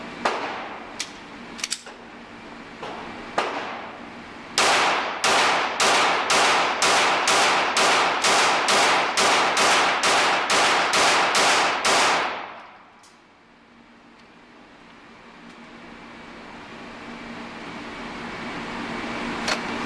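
Rapid string of pistol shots from a Smith & Wesson M&P Pro Series, loud and close, a few spaced shots then a fast even volley of about fifteen, ending in ringing quiet.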